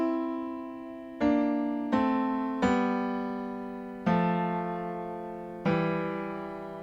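Piano plays the right-hand part of a song's interlude, six separate chords struck at an unhurried pace, each ringing and slowly decaying, with no talking.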